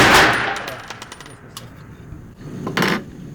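Walther pistol fired on an outdoor range, a sharp close report at the start followed by a second crack near the end, with ringing echoes and a brief metallic clink between.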